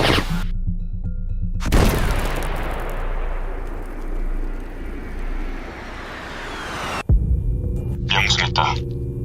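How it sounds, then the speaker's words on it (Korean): A dubbed short-film Maverick missile launch: a sharp, loud blast followed by a long roaring whoosh that fades away, then an abrupt cut to a quieter hum with a brief burst of noise at the end. "매버릭 미사일 2개로 공격하도록"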